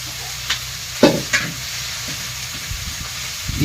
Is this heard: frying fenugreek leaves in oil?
yes